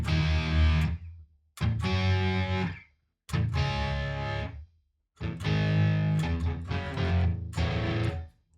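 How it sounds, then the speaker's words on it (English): Electric guitar played through a BOSS Katana amp on its distortion setting rings out in thick, saturated chords, several separate strums each sustaining and then cut to silence, loud and up close with no talking. "Let's go with the distortion."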